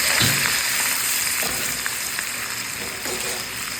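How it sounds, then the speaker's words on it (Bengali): Dried fish (shutki) frying in hot oil, a loud continuous crackling sizzle with a few faint stirring knocks, close and steady throughout. "ফার্স্টে আমি মাছটাকে ভেজে নেবো"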